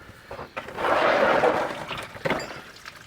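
Water gushes and splashes out of a truck transmission, a 1986 Chevrolet K30 pickup, swelling into a steady spatter for about a second, with scattered clinks and knocks before and after.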